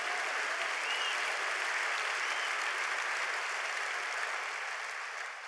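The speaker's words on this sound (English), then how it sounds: "Give the Lord a hand clap of praise." A church congregation gives a hand clap of praise during a sermon, a broad sustained roar of applause from a large crowd that stays even and tapers slightly at the end.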